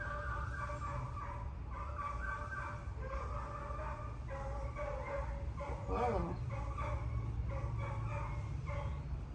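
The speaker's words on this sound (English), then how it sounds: "That's not my dog, that's one of the neighbor's dogs barking." A neighbor's dog barks somewhere off in the distance, faint repeated yips and barks half-buried under a nearby voice talking and a steady background hum.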